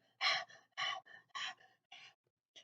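A voice imitates heavy monster panting: five or six loud, breathy gasps in an uneven rhythm, close up with short pauses between.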